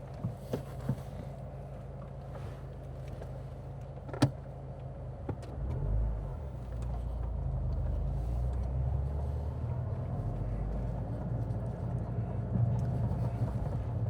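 A car driving along the road during a driving test, with a steady low engine and road rumble throughout, a few brief knocks and clicks near the start, and the drone swelling slightly louder in the second half.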